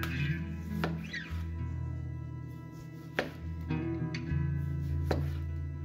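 A knife slices through a freshly picked garden vegetable on a board. Several distinct, crisp cuts land at irregular intervals over quiet background hum.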